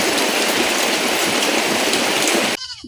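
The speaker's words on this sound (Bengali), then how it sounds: "আবার বৃষ্টি পড়া শুরু হয়েছে, টিপ টিপ বৃষ্টি পড়তেই আছে" Light rain falls steadily outdoors as a dense, even hiss with no voices, cutting off abruptly near the end.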